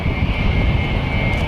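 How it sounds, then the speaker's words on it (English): A low-flying Avro Vulcan jet bomber roars loud and steady in a continuous engine rumble, performing a spiral climb during an air display at RIAT 2013. "Still Ramsey completing a spiral climb, and then he'll spiral back down again."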